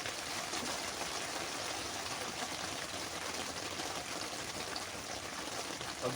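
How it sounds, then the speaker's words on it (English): Rain falls outside a tent in the cold season as a faint, even hiss with soft patter, steady throughout and heard without any voices. "Rain is coming down."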